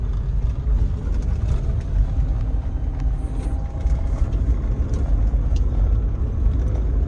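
A car engine hums low and steady while being driven on a road, a continuous rumble of motor and road noise with no talking.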